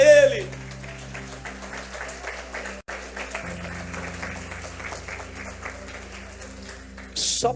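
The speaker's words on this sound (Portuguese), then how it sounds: "aplauda a Ele, glorifica a Ele" A church congregation applauds in a steady patter of many hands, moderately loud, while a sustained low organ or keyboard tone runs underneath and a brief loud burst sounds at the very end.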